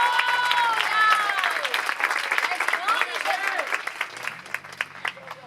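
A church congregation gives an offering of applause, a dense sustained wash of clapping that fades slightly toward the end, with a voice speaking and singing over it.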